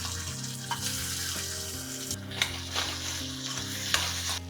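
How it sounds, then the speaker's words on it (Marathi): Boiled, chopped potato pieces fry in a tempering of chillies, asafoetida and turmeric over low flame, a soft, steady sizzle with a few spoon scrapes and taps against the pan, no talking. "याच्यात आपण उकळून बारीक केलेल्या बटाट्याच्या फोडी घालणार"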